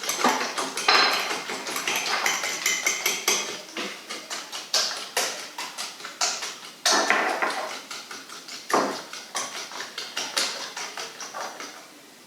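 Sugar is mixed into French toast batter in a bowl, a fast run of close clinking and tapping as a utensil beats against the bowl in rhythmic bursts with short pauses.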